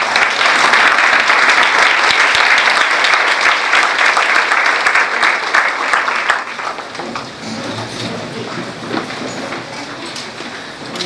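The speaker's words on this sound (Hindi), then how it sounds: "हम सब फिर से खड़े होकर जोरदार तालियों का अर्पण प्रभु यीशु मसीह को" A standing church congregation gives strong, sustained applause in praise, a dense wash of clapping that holds steady, then drops to a lighter, more scattered patter of claps for the last few seconds.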